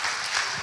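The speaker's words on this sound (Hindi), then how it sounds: "लेकिन अंकल अच्छे से तो ताली बजा सकते हो" Applause from a church congregation at a Hindi-language assembly, a steady wash of many hands clapping together throughout, fairly loud and continuous with no gaps.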